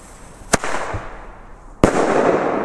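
A Nico flash bang firecracker explodes outdoors: two loud, sharp bangs about a second apart, each followed by a broad rushing decay.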